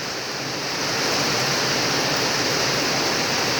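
Heavy rain sends floodwater rushing past a house in a steady, loud, dense roar that stays constant throughout, with no voices.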